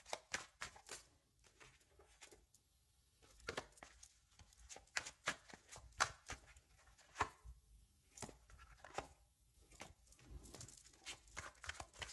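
Oracle cards are shuffled by hand for a new draw, giving soft, quiet bursts of riffling and tapping in an irregular rhythm, close by, with hushed gaps between.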